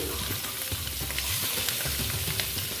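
Halved boiled eggs fry in hot oil in a pan for an Afghani egg curry, a close, constant crackling sizzle with small popping bursts and the occasional stir throughout.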